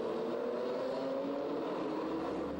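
Embassy Racing Porsche GT race car at the Spa 24 Hours, around the La Source hairpin: a constant, dense engine roar from a field of cars, steady and fairly distant with no clear single pass.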